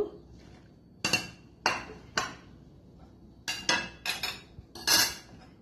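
Sharp metallic clinks and scrapes of a spoon against a bowl as chili powder, asafoetida and spices are mixed for a drumstick pickle, coming in separate bursts close up with quiet pauses between.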